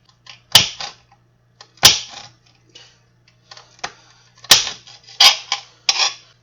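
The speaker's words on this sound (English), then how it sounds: "I don't need a whole lot of pepper, so I'm just going to cut in a couple strips" A kitchen knife chops a bell pepper into strips on a cutting board for pizzadillas, with about eight sharp, close knocks coming in uneven pairs and bursts, each followed by a short crisp crunch, and no one talking.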